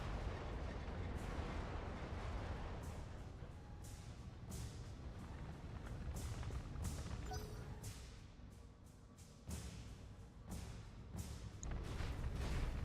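A munitions crate and nearby turrets explode in the mech combat video game BattleTech, a run of heavy booming blasts and bursts that roll one after another over a continuous rumbling battle backdrop.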